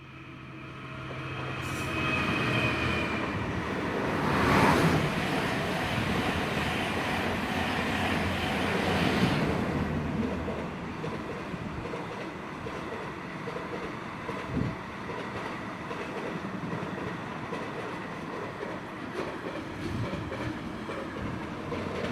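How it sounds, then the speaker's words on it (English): A Class 66 diesel locomotive hauls a Felixstowe to East Midlands Gateway freight train past Marholm, a loud continuous roar and rattle of wagons that peaks early and slowly fades as the train moves away. "(66050) working 4M79 Felixstowe to East Midlands Gateway, about to be overtaken by"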